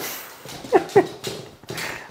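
A dog carrying a toy in its mouth makes a few short whimpering, squeaky vocal bursts amid breathy movement noise, close by and moderate in loudness.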